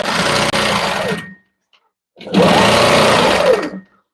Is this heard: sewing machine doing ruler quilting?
yes